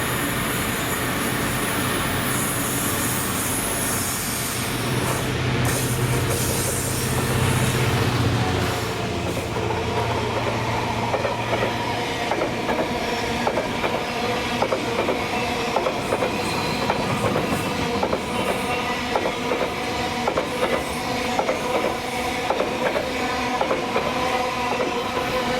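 Freight train 6K02 from Cathcart West Junction to Carlisle, top-and-tailed by Class 66 diesel locomotives 66303 and 66434, with a deep engine drone at first, then steady clickety-clack of wagons rolling past and faint wheel squeal, heard alone.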